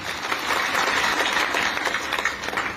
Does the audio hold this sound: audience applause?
yes